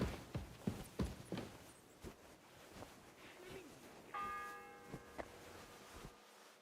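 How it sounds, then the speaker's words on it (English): Church bell ringing in the medieval world of Kingdom Come: Deliverance 2: scattered footsteps and clops lead into one sustained bell strike with a long humming decay, heard moderately near with background ambience. "The bell's ringing for Hans the 5th time."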